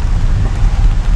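Heavy rain pours steadily over a forest road in the Konni reserve forest as dusk falls, a dense, constant hiss with a low rumbling undertone, close and loud, with no voices.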